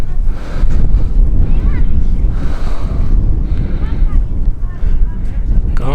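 Strong wind buffets the microphone beside ice-covered Lake Sevan in winter, a loud, continuous rumbling roar with gusty surges throughout, with possible faint voice underneath.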